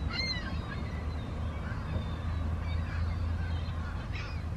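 A large flock of gulls calls continuously around a retention pond near a county landfill and a Walmart parking lot, with overlapping cries against steady low outdoor rumble.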